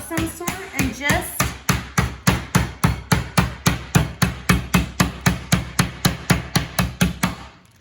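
A rolling pin pounds a chicken cutlet under plastic wrap, about twenty-five loud, evenly spaced thuds in a steady rhythm, close up, alone with no talking.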